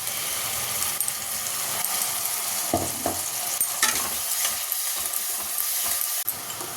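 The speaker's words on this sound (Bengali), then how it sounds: "এবার এতে দিয়ে দেবো টমেটো পেস্ট, টমেটো আর কাঁচা লঙ্কা।" Browned onion fried in a pan with tomato paste, chopped tomato and green chilli, giving a steady close sizzle with spoon scrapes and stirring clinks and no talking.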